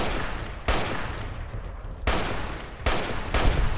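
The This Machine rifle in Fallout New Vegas fires four sharp, loud single shots at irregular intervals, each a hard crack trailed by a short decay, with no talking.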